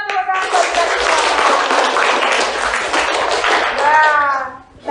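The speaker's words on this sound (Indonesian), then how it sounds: "tepuk tangan buat kita semua" A classroom of children claps together, dense hand clapping mixed with loud kids' voices and cheering that rises and falls, close and energetic throughout.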